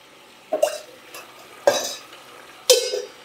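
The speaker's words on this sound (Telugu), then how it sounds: "తాలింపులు మనం ఫ్రై చేయాలి." Spices tempering in hot oil for tomato chutney, heard as three sharp bursts of sizzle and metal scraping, each rising suddenly and then fading, with quiet gaps between.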